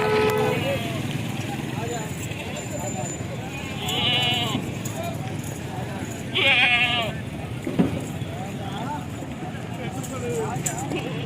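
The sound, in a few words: goats bleating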